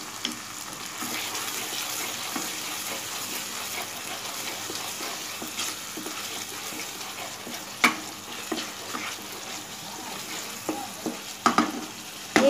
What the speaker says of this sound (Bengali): এবারে যে মশলাগুলো আমি ভিজিয়ে রেখেছিলাম, গুঁড়ো মশলাগুলো, সেগুলো আমি অ্যাড করে দিলাম।